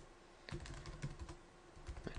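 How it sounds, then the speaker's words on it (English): Fast, uneven clatter of keys on a computer keyboard while code is typed, close and fairly quiet, with brief pauses between bursts. "My typing isn't very good tonight."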